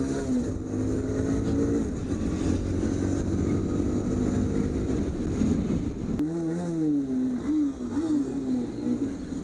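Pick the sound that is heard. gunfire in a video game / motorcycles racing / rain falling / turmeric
motorcycles racing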